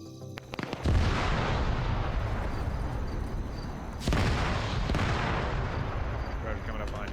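A demolition charge blasts in a military video game, setting off a long, loud rumbling roar of artillery-like explosions that surges again partway through and keeps booming to the end.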